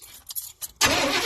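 A Chevrolet G20 van engine cranks with a few short, choppy starter bursts, then catches into a loud, close, sustained engine noise.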